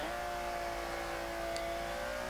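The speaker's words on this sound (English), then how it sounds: "This V12 is from the Enzo, by the way, so yeah, if it sounds a bit familiar" A high-revving Ferrari Enzo V12 engine in a 1940 Ford De Luxe Coupe in Forza 5 drones steadily, its pitch rising slightly as it holds a sustained whine, with no talking.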